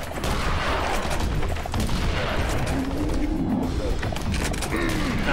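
Small mechs fire lasers in the video game Serious Sam 3, a dense, loud, continuous barrage of shooting, zaps and crashes with no breaks, with a voice talking over it.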